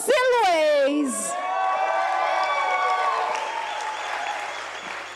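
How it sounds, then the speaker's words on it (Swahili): A concert crowd cheers and applauds for a spoken word artist taking the stage. It opens with a loud whoop, then settles into sustained clapping and cheering. "put your hands together for Brayo Silways."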